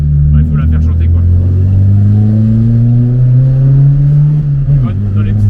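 A Fiat Uno Rallye with a tuned naturally aspirated engine revs hard in a narrow street, the engine note climbing steadily then dropping sharply, very loud and close with no talking.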